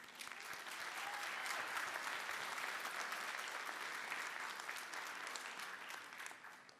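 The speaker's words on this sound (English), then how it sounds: "let's give Katie another applause." An audience at a union State of the Union speech breaks into applause, a dense wash of clapping that swells quickly, holds steady and then tapers off.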